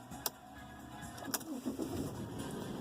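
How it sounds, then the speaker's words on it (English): A Mercedes W211 engine cranks and catches, with a brief sharp click, a second starter burst, then a steady low idle settling in. Heard fairly faint and close, with no talk. "And then starting the car,"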